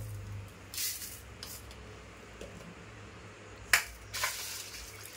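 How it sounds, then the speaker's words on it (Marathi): Water poured over soaking dried Byadgi chillies and coriander seeds, a quiet close splash in a few short bursts over a low hum. "पाणी टाकून ठेवते."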